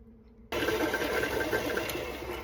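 A stand mixer beating butter and sugar switches on abruptly after a quiet moment, then whirs at a steady, close motor hum with a faint rhythmic rattle.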